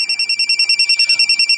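Cellphone ringtone ringing, a loud, close electronic trill pulsing in rapid even beats, about eight per second, with nothing else audible.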